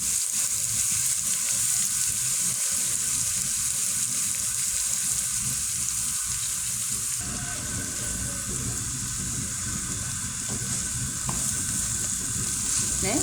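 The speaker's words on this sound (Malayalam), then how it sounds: "അടുപ്പത്ത് എണ്ണ ചൂടാവാൻ വെച്ചിട്ടുണ്ട് അപ്പോൾ ബാക്കി പരിപാടി കാണിച്ചു തരാം ഇതുപോലെ അത് നമ്മൾ ഉള്ളി വാട്ടിയെടുക്കാം" Onions sautéing in hot oil, heard as a loud, steady, close sizzle that runs unbroken throughout with faint stirring underneath.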